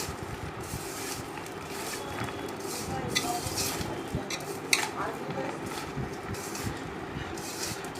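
Wet, irregular squelching and soft clinks of a hand mixing spice paste in a bowl in a home kitchen, steady and close over faint background noise.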